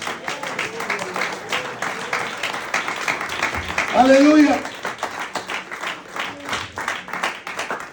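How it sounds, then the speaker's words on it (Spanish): Church congregation clapping during a Sunday service, a scattered, rhythmic patter of hands beneath a voice calling out, swelling briefly into a louder burst midway. "Pueden darle un aplauso al Señor."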